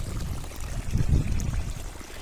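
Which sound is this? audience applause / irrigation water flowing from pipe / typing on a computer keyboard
irrigation water flowing from pipe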